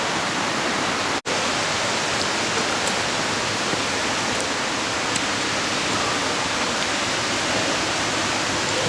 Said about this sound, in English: There's a creek down there.